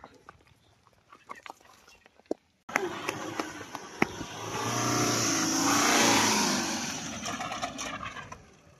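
A Tata truck engine runs and builds as the vehicle is driven off, a loud close rumble swelling and easing over several seconds after a quieter start.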